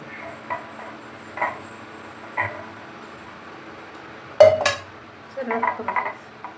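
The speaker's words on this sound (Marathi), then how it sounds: "या पात्रांना आपण आधी थोडंसं तेल लावून घेऊया सगळ्या पात्रांना थोडं थोडं तेल लावून" Metal idli steamer plates clink and clatter as they are handled and greased with oil, a few sparse knocks followed by a louder cluster of metallic clanks, close by in a quiet kitchen.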